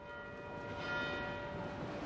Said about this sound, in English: During Lent, the Angelus bell rings out daily from St Anne's Church